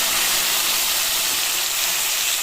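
Gathi kochu taro pieces fry in hot oil with a loud, continuous hissing sizzle, heard alone and close up.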